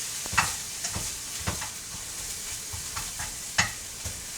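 Onions frying in a non-stick pan for kimchi bacon fried rice, a steady sizzle broken by periodic stirring scrapes and clinks that come up close and distinct, with no talking.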